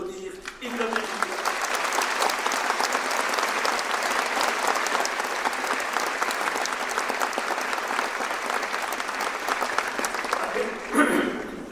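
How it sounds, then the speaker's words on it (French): Sustained audience applause at a New Year's address ceremony in Belfort, a dense steady roar of many hands clapping that fills the whole stretch and swells briefly near the end. "Je vous propose de les applaudir et de les remercier."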